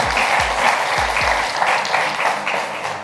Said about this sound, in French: Applaudissements pour KPG.